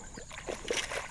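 A bass strikes a Rooster Tail inline spinner in a creek, throwing a short, close burst of splashing and sloshing water over a steady outdoor background.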